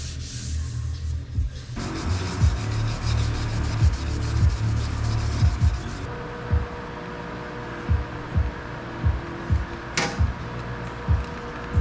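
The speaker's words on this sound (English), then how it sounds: "I think I put the primer on pretty thick, so we can probably sand out everything but this one." Thick primer is sanded by hand on the body of a roughly 60-year-old Lincoln tombstone welder: repeated rhythmic rubbing strokes, close and loud, under a steady background hum.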